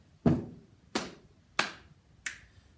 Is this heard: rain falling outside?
no